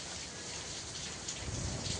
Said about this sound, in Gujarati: હવે વરસાદ ચાલુ થયો